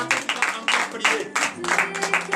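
A church congregation at morning prayer gives an acclamation to Jesus, bursts of clapping and cheering voices rising and falling in waves, loud and close.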